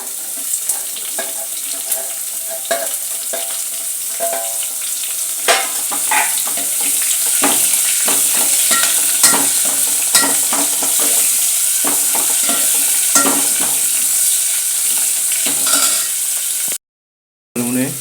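Onion frying in a pan for a simple Konkani dal makes a loud, continuous hiss with scattered scraping and clattering stir strokes throughout, cutting out briefly near the end; no voices.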